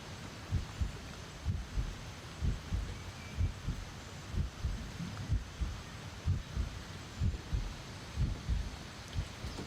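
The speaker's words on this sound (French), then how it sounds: "Là, j'ai entendu le battement de cœur." A heartbeat plays in the adventure video game L'Amerzone, a steady run of soft, low thumping double beats repeating about once a second over a faint background hum.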